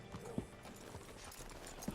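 Horse hooves clip-clop in Red Dead Redemption 2, two sharp hoof strikes standing out over a low ambient bed, moderately faint and without talk.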